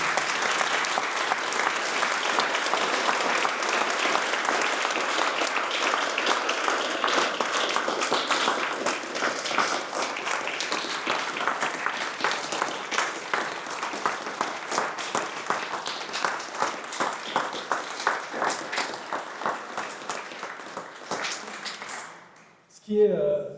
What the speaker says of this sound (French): Vous pouvez les applaudir chaleureusement parce que je crois qu'ils le méritent.